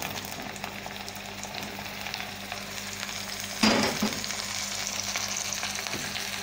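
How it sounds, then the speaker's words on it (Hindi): Chopped tomatoes dropped into a pan of sautéed onions, a steady close sizzle of frying with a sudden louder hiss as they hit the hot oil, then continued crackling. "अब हम इसमें टमाटर शामिल करेंगे।"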